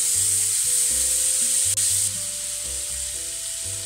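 Endives with onions and tomatoes simmer in a pan, giving a steady, loud, even sizzling hiss that runs unbroken for several seconds, with a low, faint hum underneath and no voices.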